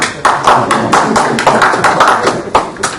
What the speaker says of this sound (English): I got two cops clapping.